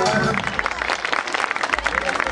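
Clapping from a crowd at a school Mais Educação performance of a matuto wedding dance, loud broadband patter sustained throughout with voices mixed in.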